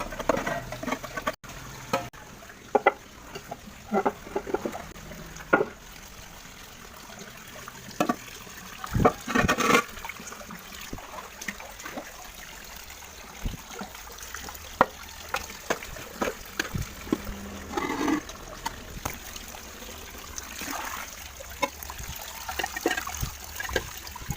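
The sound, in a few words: water filling a tilapia fish pond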